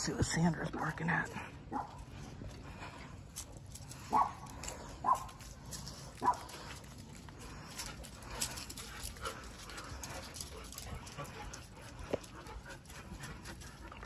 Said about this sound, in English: See what Sandra's barking at.